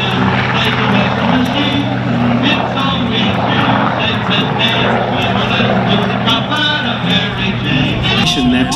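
An FG-1D Corsair warplane drones past at an air show, its loud radial engine and propeller roar steady and close, with a crowd murmuring and voices underneath.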